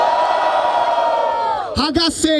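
A rap battle crowd roars and whoops for a performer, a dense sustained wash of cheering with a voice yelling over it near the end.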